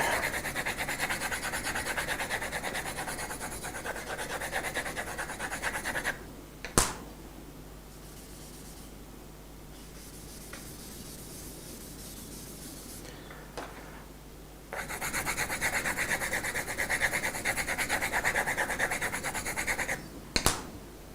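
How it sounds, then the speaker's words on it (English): Graphite being rubbed onto paper to shade a drawing of a glass of water, a soft continuous scratchy rasp heard close up, pausing briefly in the middle before resuming steadily. "I'm just gradually rubbing it on."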